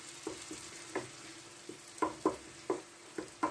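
Onion frying in a pan while making stuffed baked msemen, with an ongoing sizzle broken by sharp, spaced stirring scrapes and spatter pops roughly every half second.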